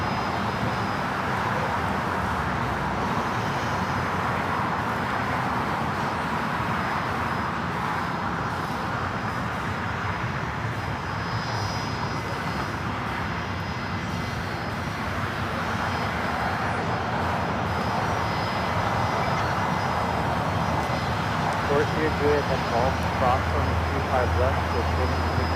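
A Gulfstream G450 business jet taxis at LAX, its steady engine roar and whine filling the airport air and rising slightly toward the end, with people talking over it.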